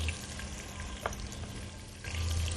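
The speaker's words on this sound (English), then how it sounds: "My meat is in, sizzling away already." Meat sizzling in a pan with whole jeera for a curry, a steady close hiss of frying with a soft clink of stirring midway, no voices.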